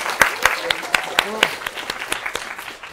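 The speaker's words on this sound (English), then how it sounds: "All right, let's give TJ Trufiel a round of applause." A handful of people clap in an uneven rhythm, with several distinct claps standing out, while voices murmur underneath.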